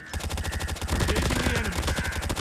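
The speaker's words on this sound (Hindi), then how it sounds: "मतलब पूरी 55 गोलियाँ ऐसे ही खा गया।" Rapid automatic gunfire from the video game Call of Duty rattles continuously and loudly in dense bursts, with fast repeated shots layered under game effects.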